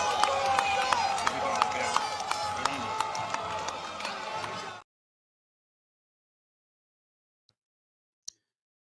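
An audience at a political gathering breaks into dense, loud applause and cheering that fills the space for several seconds before cutting off abruptly into silence.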